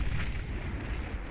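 Long-range plasma cannons fire in the strategy game Beyond All Reason, a loud, heavy rolling boom with deep rumble that stays dense and continuous throughout, with no voices.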